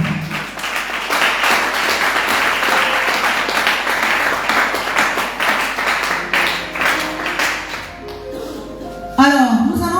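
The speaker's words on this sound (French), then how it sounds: "Alors nous allons acclamer pour ça très très fort." Church congregation applauding loudly with sustained dense clapping for about nine seconds, a few voices and cheers mixed in, fading near the end as a voice and a rising tone break in.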